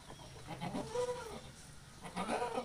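Goats at feeding time bleat a few times in quick succession, wavering cries close by over a quiet background.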